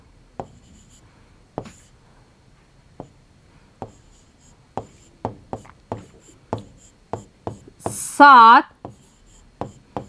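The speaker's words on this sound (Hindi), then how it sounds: "तो सबसे पहले हम यहाँ लिखेंगे उत्तर" A pen or marker scratches out an answer by hand for a class 3 math lesson, in short separate strokes with pauses between, close and crisp. A voice speaks throughout.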